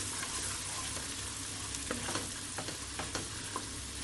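Grated ginger and garlic frying in a pan, a steady dense sizzle with occasional soft scraping taps from stirring, close and fairly even throughout.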